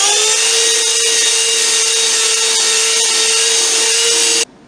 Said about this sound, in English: The seams are sanded smooth with a belt sander.